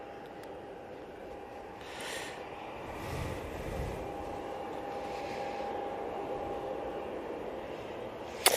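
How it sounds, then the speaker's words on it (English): A TUI Boeing 787-8 Dreamliner jet departing Manchester Airport, a steady distant jet roar and whine that slowly builds in strength, faint and continuous, with a brief sharp knock at the end. "on the way out, we do have the TUI 787-8 Dreamliner"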